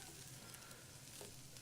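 Halloumi sizzles in a frying pan with a steady, soft crackling hiss that continues evenly throughout.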